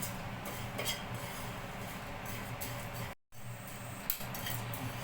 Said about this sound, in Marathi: आता याच्यामध्येच आपण हे पोहे साधेच चांगले भाजून घेणार